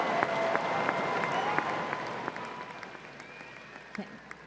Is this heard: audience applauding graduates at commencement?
yes